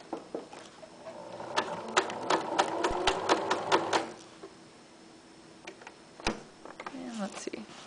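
Sewing machine stitching velcro onto fabric, running in several quick bursts of rapid mechanical clatter, close and fairly loud, with pauses between runs and a voice talking in the gaps.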